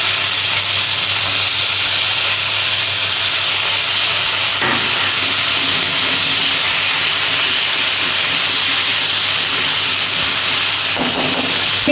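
Ginger hits a hot pan while cooking a vegetable curry with lentil fritters, giving a loud, continuous hissing sizzle that holds steady for many seconds, with faint clatters now and then.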